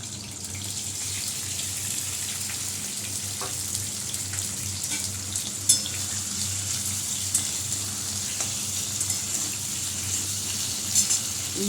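Fish going into a hot pan and frying, with a steady broadband sizzle and hiss holding at even loudness throughout, a few faint clinks on top, and no voices.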